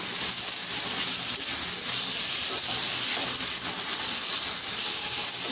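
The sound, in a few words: capsicum sizzling while sautéing in pan for fried rice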